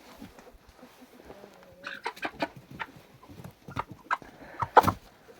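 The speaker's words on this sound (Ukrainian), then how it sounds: "Скоріше всього півник." A young rooster clucks and chirps in short, irregular bursts nearby, with soft rustling and a louder squawk near the end.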